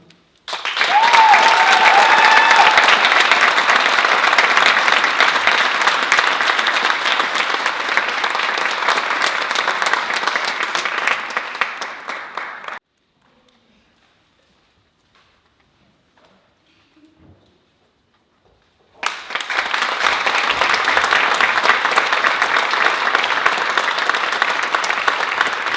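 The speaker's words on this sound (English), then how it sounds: "Please join me in applauding Brown Human." An audience at a county youth awards ceremony claps in sustained, dense applause for about twelve seconds, falls almost silent, then breaks into another long round of clapping.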